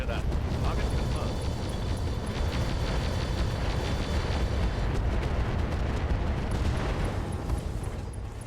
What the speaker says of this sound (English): Deadfire ammo explosion there